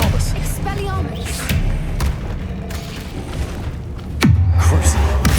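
The Expelliarmus spell is cast in Hogwarts Legacy: a booming, thudding magical effect with a sharp descending swoosh that settles into a sustained low hum near the end, layered over steady game background sound.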